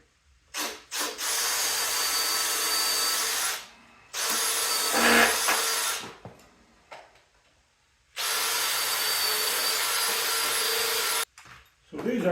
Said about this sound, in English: I'm actually going to pre-drill some holes